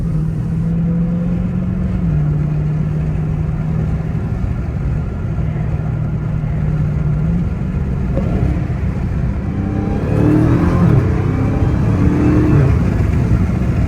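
A Dodge Hellcat Widebody Jailbreak engine roars loud and close, a steady heavy drone whose pitch shifts as it revs while the car slides, building into louder rising revs near the end.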